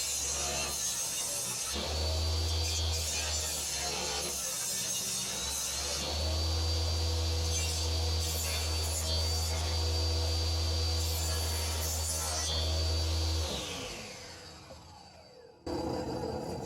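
Wooden legs for a child's table feed through a woodworking machine to take the faces off, a loud steady mechanical drone and cutting rasp that runs for over ten seconds, then winds down toward silence.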